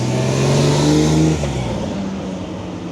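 Two Ferraris, a TDF and a 330 GTS, pull away at a car show, engines revving loudly up close before the note drops and fades as they drive off.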